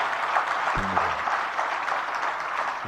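Applause from a seated audience at a Jain religious discourse hall, steady broadband clapping sustained throughout at moderate distance, with a brief low tonal blip partway through.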